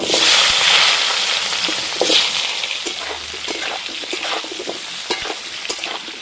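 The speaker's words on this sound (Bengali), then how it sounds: "ওই মাছ ভাজার তেলে কটা আলু ভেজে নেব।" Potatoes fry in oil left over from frying fish, giving a loud, steady sizzle with crackling spatters throughout and a brief surge near the start, with no voices.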